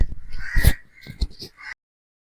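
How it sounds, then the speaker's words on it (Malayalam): Crows cawing outdoors in the morning, a few harsh calls in quick succession with one louder call standing out, close and fairly clear against a quiet background. "കിളികളുടെ ശബ്ദവും നല്ല കാറ്റും നല്ല രസമാണ്"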